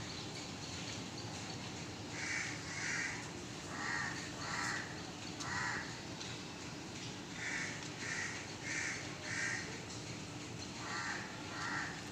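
A crow caws repeatedly outdoors. There are about a dozen harsh calls in short pairs and clusters, spread steadily over a quiet background hiss and moderately close.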